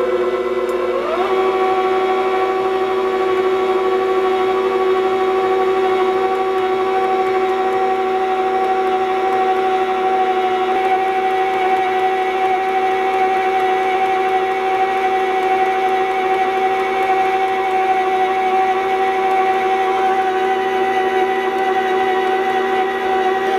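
A stand mixer churning cookie dough after the dry ingredients go in: a loud, steady motor whine with a constant hum that starts up in the first second and runs unchanged to the end.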